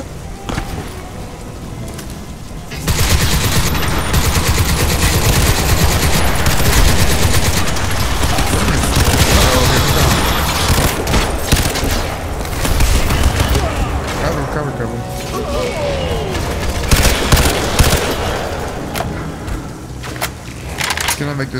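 Sustained gunfire and fusillade bursts from Crysis 2 combat, dense and loud through most of the stretch, with voices talking over the shooting.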